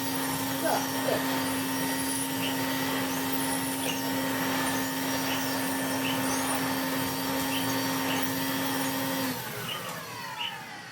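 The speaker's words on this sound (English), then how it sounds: "I'm using my Hoover 427 from the 1970s with a floor head from probably 2015 onwards" A 1970s Hoover 427 vacuum cleaner fitted with a newer basic floor head runs with a steady whining motor drone and high tonal hum, and the note drops as it slows near the end.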